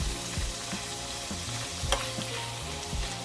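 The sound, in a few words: sesame chickpeas pan frying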